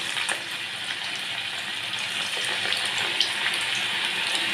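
Onion bhaji batter pieces dropped into hot oil for crisp kanda bhaji, a steady, dense sizzle and bubbling of frying that runs throughout, fairly close, with no voices.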